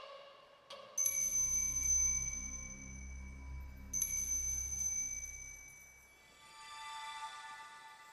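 A magical bell rings in a Sailor Moon VR game to summon Pegasus, giving clear, bright chimes, with one strike and then a second, each with a long shimmering ring-out above a soft low hum.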